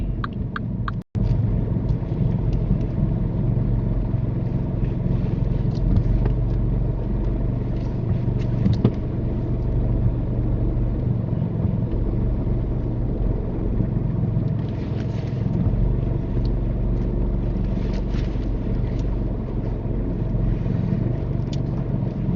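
A learner driver's car creeps forward into a parking bay during a UK mock driving test, giving a steady low engine rumble and road noise from inside the cabin, with one sharp knock near the start.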